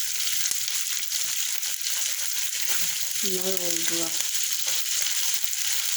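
Anchovies sizzle steadily in a frying pan, a continuous close hiss of hot oil throughout, with a brief spoken phrase partway through.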